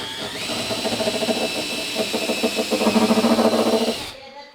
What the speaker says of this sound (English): this is going to pre-drill deeper, so don't have your fingers underneath, Judy.